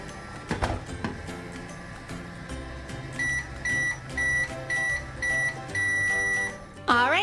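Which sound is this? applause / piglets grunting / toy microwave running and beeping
toy microwave running and beeping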